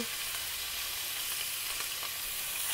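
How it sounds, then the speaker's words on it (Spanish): Beef steak of white round cut sizzling in a splash of oil in a pot on the stove, a loud, steady hiss of frying that continues without a break. "ya le vamos a poner el bistec a la cacerola"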